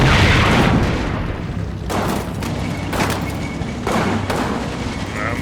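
Repeated heavy booms of enemy mortar shells landing in the Combat Mission: Final Blitzkrieg war game, loud, dense and rumbling, striking several times in quick succession over continuous battlefield noise.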